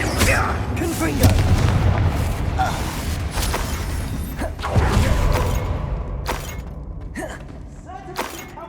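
Fire spells blast repeatedly in Hogwarts Legacy combat, sharp booming impacts with shattering, thudding debris and creaking mechanisms, several explosions spread across the moment amid game effects and a speaking voice.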